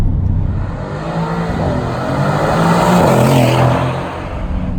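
A 2019 Mercedes-AMG C63 S V8 engine revving, a loud deep rumble that swells in a sustained rise toward the middle, then eases off, with no voices.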